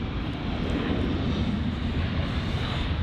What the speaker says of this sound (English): the KLM 737, is that 700?